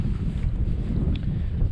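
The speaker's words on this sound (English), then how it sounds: "it's really windy" Strong wind buffets the microphone on an exposed hillside above Ystrad Reservoir, a steady low roar and rumble that carries on throughout without any talk.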